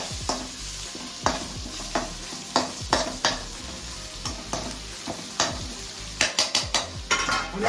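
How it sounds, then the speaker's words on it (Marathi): Pieces of mackerel (bangda) sautéed in oil in a pan: a soft background sizzle punctuated by frequent sharp spatula knocks and scrapes against the pan, irregular and close, with no speech. "आणि हा बांगडा पहिला परतून घ्यायचा याच्यामध्ये"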